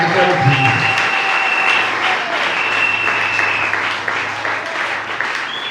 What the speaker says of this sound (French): Acclamez pour le serviteur de Dieu